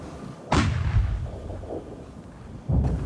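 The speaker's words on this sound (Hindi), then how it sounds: "हाल में यहाँ टैंकों से हुई लड़ाई का यूक्रेनी फुटेज" Artillery fire during a tank battle near Bakhmut in Ukraine, with two heavy booming blasts about two seconds apart, each followed by a rolling rumble that decays slowly in the open air.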